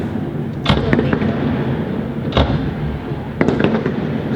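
Fireworks bursting outside an apartment building, several sharp cracks and pops at irregular intervals over a constant rumbling background, loud and fairly close.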